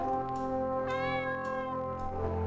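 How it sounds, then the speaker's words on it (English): A cat in an RPG Maker video game gives a drawn-out, tonal meow over steady game music, clear and prominent throughout. "Cat."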